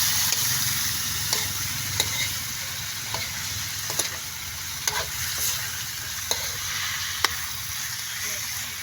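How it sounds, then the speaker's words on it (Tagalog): Chopped banana heart fries in a pan, a steady sizzling hiss broken by repeated light taps and scrapes of a spoon as it is stirred, with a voice faintly present. "Lagay na ang puso ng saging"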